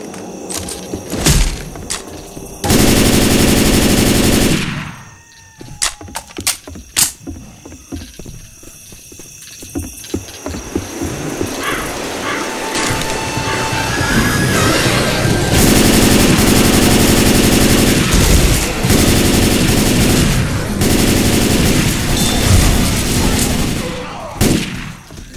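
Sustained automatic gunfire from a machine gun in the zombie shooter Left 4 Dead 2, loud and close, in long dense bursts broken by single cracks and brief pauses, with other game noise mixed in.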